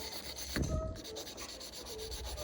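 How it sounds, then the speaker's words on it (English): Silver jewelry rubbed by hand with 800 grit sandpaper, a faint, close, steady scratchy rasping with one slightly stronger stroke, no talk. "moving on to the 800 grit sandpaper. Just do exactly the same as you do on the 600."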